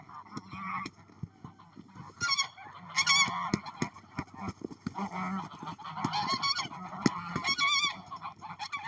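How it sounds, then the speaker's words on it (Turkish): Loud, repeated goose honks in agitated bursts with flapping commotion as male geese fight, close by and continuing throughout. "Az önce erkek kazlar kavga ederken Jackie ile Mini onları ayırdı."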